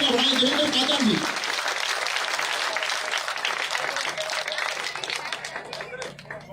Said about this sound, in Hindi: जोरदार तालियों के साथ इनका स्वागत करें, हौसला बढ़ाएं।